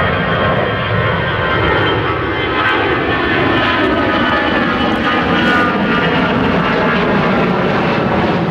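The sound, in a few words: Titan Airways A320 taking off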